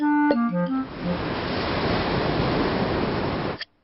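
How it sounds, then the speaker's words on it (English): Steady, hissing surf-like rush of sea waves heard through a seashell in a cartoon, rising after a brief musical note and holding evenly for about three seconds before cutting off. "If you put a shell to your ear, you can hear the sea."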